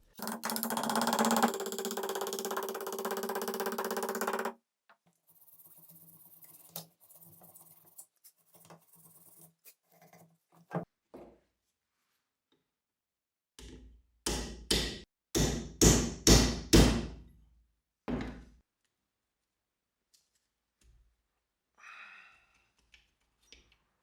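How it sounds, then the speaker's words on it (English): Metal parts of a World War II machine gun are handled as its ejection port dust cover is moved, with a few sharp scraping clacks and a tight cluster of close metallic clicks against quiet pauses. "The part I'm moving now is the ejection port dust cover."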